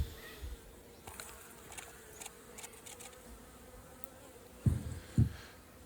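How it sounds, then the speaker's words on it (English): A faint, steady buzz of honey bees hovers in the background as they are cleared from a feeder on a mini nuc hive, with a few soft thumps and bumps near the end. "Just carefully get those bees out of the feeder"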